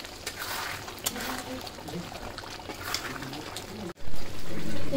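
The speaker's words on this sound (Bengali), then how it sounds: "এরপর আমি দিয়ে নিলাম পরিমাণ মতো জল" Water poured into a cooking pot for boiling potatoes: a steady, fairly faint splashing trickle that breaks off briefly, then a louder gush near the end.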